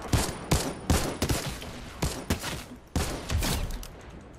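Rapid bursts of gunfire from a weapon in Fortnite, a sharp, loud series of shots in quick clusters, close and alone without talk.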